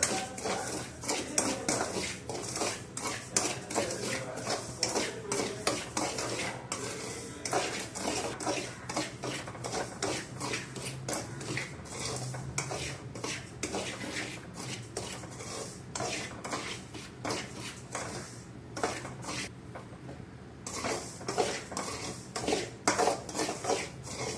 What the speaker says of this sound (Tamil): இன்றைக்கி நான் அதை நல்லா சூடு பண்ணணும், வறுத்து எடுத்துக்கணுங்க.